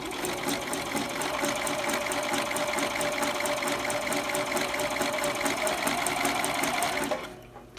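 A sewing machine stitches stretched elastic onto fabric in a steady, close, fast-running whir that continues without a break for about seven seconds, then stops abruptly.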